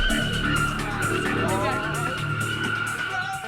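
A car skidding out of control on a test track in total darkness, with continuous loud tire squeal and engine noise sustained throughout, voices briefly audible over it.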